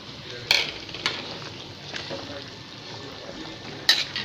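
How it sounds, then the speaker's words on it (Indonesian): Chicken curry stirred in boiling coconut milk: a spoon clinks sharply against the pot a few times over a steady low bubbling simmer. "nah teman-teman ini santannya sudah mendidih dan ayamnya pun sudah matang saya aduk-aduk sebentar"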